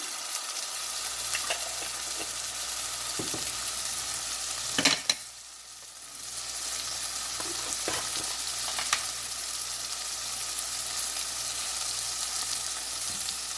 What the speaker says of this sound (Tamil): கறி பவுடர் ஒரு கரண்டி இவ்வளோத்தையும் நல்லா இந்த இதில் நல்லா வதக்கி விடுவோம்